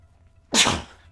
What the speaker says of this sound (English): I've been sneezing a lot lately.